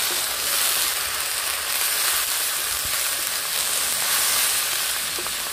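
Water splashed into a hot pan of pipuli greens frying with fish head, village style, sets off a steady loud sizzle and hiss that runs unbroken and close throughout.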